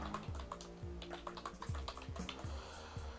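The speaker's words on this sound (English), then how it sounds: "We can clear them, we can type the keywords" Someone types keywords on a computer keyboard in a quick run of close, light key clicks. The clicking is faint and goes on without any talking.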